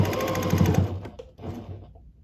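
A sewing machine stitches back over quilted fabric in a quick burst of rapid needle chatter, close and steady for about a second before easing into softer, slower stitching and handling noise.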